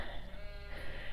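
Sheep on a farm bleat around a round hay bale, a short, wavering call sounding close and loud over rustling background noise.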